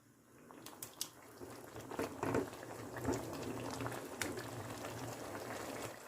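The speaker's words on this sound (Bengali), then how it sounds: "একটু গরম জল দিয়ে দিলাম। আর 1 মিনিট রান্না করে নেব।" Spring onion vegetable simmers in a pan after hot water is added, giving a faint, steady bubbling with a few soft pops and splashes.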